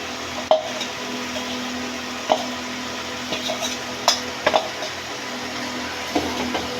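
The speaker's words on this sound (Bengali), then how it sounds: "এবার আলুগুলো দিয়ে ভালো করে কষিয়ে নিতে হবে।" Fried potatoes stirred into a spice paste in a pan for katla fish curry, a low sizzle broken by sharp scrapes and knocks of a spoon against the pan at irregular intervals.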